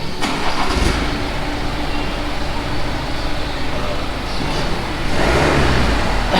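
A VW Golf R with its resonator deleted starts up and then idles, loud and close, with a throaty rumble and a swell near the end. Voices talk over the engine.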